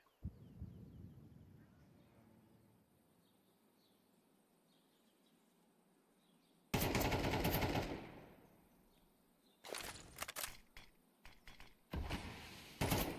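AK rifle gunfire in a Counter-Strike esports match: after a quiet stretch of faint game ambience, loud bursts of rapid automatic fire break in, then further short clustered volleys follow near the end.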